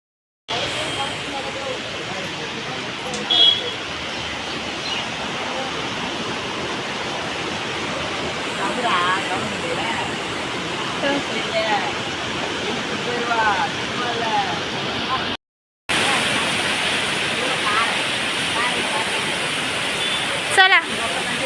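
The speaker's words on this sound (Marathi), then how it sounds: "पाऊस पाऊस." Rain falls outdoors at the Ambernath Shiv temple as a continuous broadband wash of close, steady hiss that persists for the whole stretch, broken by one brief dropout.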